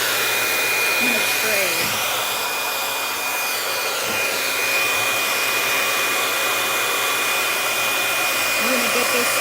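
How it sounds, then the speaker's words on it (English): Loud, continuous roar of hair dryers blowing steadily at close range, with a brief muffled voice underneath. "We're gonna go mega blasters with 2 dryers at the same time."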